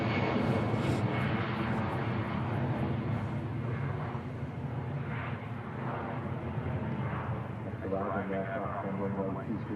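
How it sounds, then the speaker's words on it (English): An easyJet airliner departing Manchester Airport for Belfast, a steady, loud broadband jet roar that swells and sustains throughout, with faint voices in the background. "EasyJet off to Belfast."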